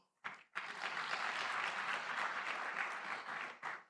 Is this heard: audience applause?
yes